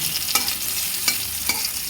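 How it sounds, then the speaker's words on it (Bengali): Raw mango pieces fry in hot oil with a steady, bright sizzle, broken by three light scrapes of a spatula stirring the pan, close and alone without talk. "এই যে আমটা খুব ভালো করে ভেজে নিচ্ছি।"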